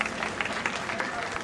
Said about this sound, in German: Und dafür großen Applaus in der Route.